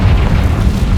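A Confringo blast spell explodes in Hogwarts Legacy, a loud, deep booming burst with low rumble filling the whole moment, no voices.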